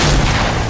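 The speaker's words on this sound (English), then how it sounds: "Drive-by shotgun with my boy Joe" A shotgun blast in Fortnite, a single loud, booming burst with a dense low-end rumble that fills the short moment without any pause.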